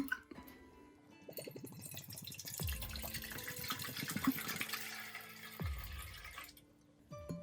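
Water poured into a cooking pot to start a simmer pot, a steady splashing, gurgling pour that rises in pitch as the pot fills, heard up close with a few clinks of the pot.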